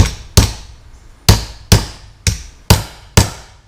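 Six sharp hammer taps drive a part into place on a DIY kayak trailer, each a loud close metallic knock with a brief ringing decay, spaced unevenly about half a second apart.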